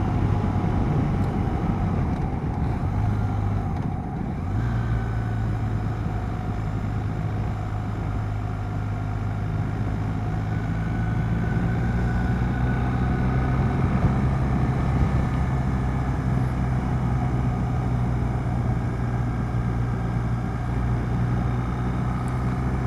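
Steady engine and road rumble of a car driving on a snowy road near Lormes in the Morvan, with wind noise buffeting the microphone throughout and a brief dip partway through.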